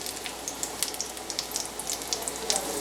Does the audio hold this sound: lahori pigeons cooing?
no